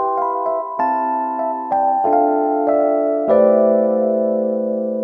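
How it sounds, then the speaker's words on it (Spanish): A sampled instrument plays a short sequence of sustained, bell-like tonal notes with a reverb effect set to zero pre-delay, each note ringing into the next, clear and loud with no voices. "con un reverb con valor de pre-delay igual a 0, suena de la siguiente manera"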